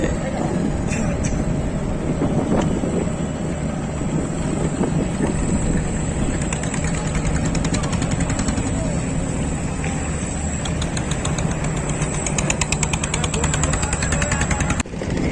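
A small boat's engine running on a river, a loud continuous rattling drone with a rhythmic throb that holds steady throughout, with voices faintly mixed in.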